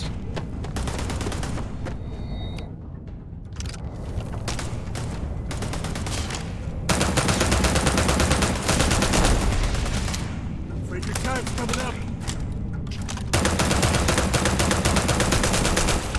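Mining turrets open fire in the video game Starfield, a loud sustained barrage of rapid automatic gunfire in dense bursts with brief lulls, overlaid with other game sound effects.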